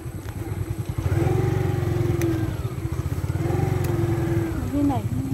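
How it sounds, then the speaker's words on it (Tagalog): A borrowed motorcycle hums and revs close by as it is ridden unsteadily, its engine note rising and holding steady while people talk over it. "Hindi sanay si Soy-soy manghiram ng motor"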